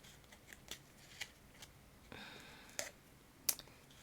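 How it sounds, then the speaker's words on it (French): Scissors snip paper for a floral shaker card, several sharp separate clicks and cuts spaced irregularly over a few seconds, close and fairly quiet. "je pense que j'avais mes ciseaux à portée de main, du coup, je fais avec mes ciseaux"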